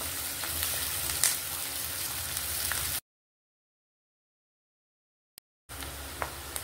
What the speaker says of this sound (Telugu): ఇప్పుడు ఉల్లిపాయలు కొంచెం ఫ్రై అవ్వాలి.